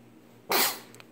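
A single sharp sneeze bursts out close to the microphone, breathy and brief, against a quiet room.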